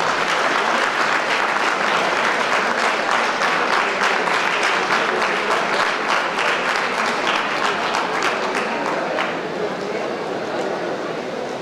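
A crowd in an auditorium at a traffic awareness meeting claps for a police department, a loud, sustained wash of applause with individual hand claps standing out and slowly tapering near the end, with talk underneath.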